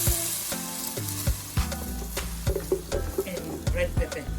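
Blended tomato and onion fry loudly in a pot for an assorted meat soup, a close, constant sizzle broken by repeated spoon knocks and scrapes against the metal.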